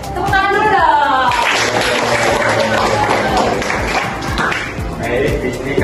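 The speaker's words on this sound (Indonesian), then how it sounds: "Tepuk tangan dulu dong." A group, largely children, claps hands at a Pancasila values outreach session, a busy stretch of clapping mixed with chattering young voices and room noise.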